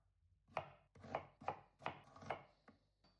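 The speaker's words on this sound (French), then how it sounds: "Pour le fenouil et l'oignon, il suffit de les couper en tranches relativement fines." A knife slices fennel and onion into fairly thin pieces on a board for lasagne: six crisp, close cuts in a steady rhythm, with no talking.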